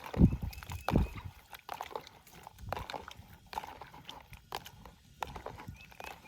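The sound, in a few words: rinsing morel mushrooms in water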